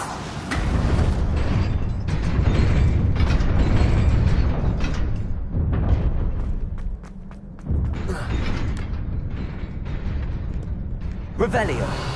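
A fire spell is cast in Hogwarts Legacy, giving a loud, sustained roaring burst with heavy low rumble that surges and recedes over several seconds, followed by a brief bright flare near the end.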